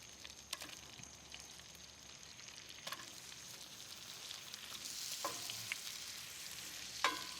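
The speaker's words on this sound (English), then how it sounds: "Okay, let it come up to a nice foamy boil. Get those vegetables glazed and fried in there a little bit." Turnips and carrots fry and glaze in a foamy boiling pan, giving a steady soft sizzle with a few sharp clinks and scrapes of stirring.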